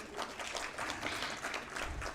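Audience applause at a Civil 20 India 2023 working group conclave valedictory event, a sustained patter of many hands clapping, fairly faint and distant, continuing evenly throughout.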